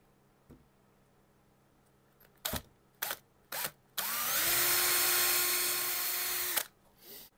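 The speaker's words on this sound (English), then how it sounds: "So let's pre-drill the holes." A power drill whirs in a few short bursts, then runs steadily for about three seconds before stopping while pre-drilling pilot holes in a guitar for a Bigsby mod, loud and close.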